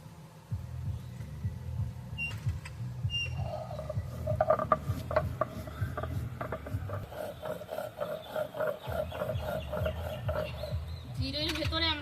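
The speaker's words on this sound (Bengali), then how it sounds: "প্রথমে আমরা জিরেটা বেটে নেব।" Cumin seeds are ground on a stone slab with a low, rhythmic, muffled rubbing and thudding that repeats steadily back and forth, soft and close, with faint scraping on top.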